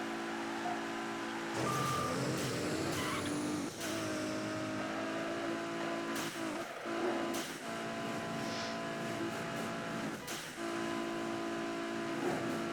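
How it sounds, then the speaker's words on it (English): A race car in Midnight Club 3 roars at high revs with a NOS boost, and its engine drops and climbs again through quick downshifts. The tone is sustained, harmonic and game-like, with no voices. "You use a NOS and immediately start downshifting to make a turn to then hit a NOS again."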